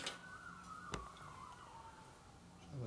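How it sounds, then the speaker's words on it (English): An ambulance siren wails faintly in the distance, a slow rising and falling tone sweeping across a quiet indoor workshop background, with a single sharp knock partway through. "Sounds like an ambulance that time."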